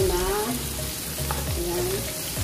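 Beefsteak frying in a pan and being stirred, with a steady sizzle and a few scraping strokes of a utensil, close and moderately loud, with no clear speech.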